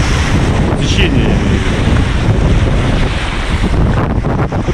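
Fast, powerful current of the Yenisei river near Krasnoyarsk, its waves rushing in a loud, steady broadband roar with heavy wind buffeting the microphone throughout and no talk.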